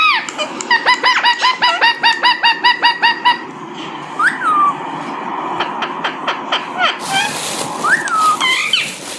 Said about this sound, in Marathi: तर त्याच्यामध्ये 2-3 पोपट आहेत